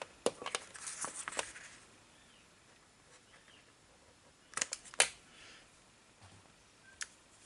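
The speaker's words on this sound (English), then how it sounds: "So cut these threads off," Scissors snip sewing threads in a few quick clusters of crisp clicks near and fairly quiet, the last groups separated by short pauses.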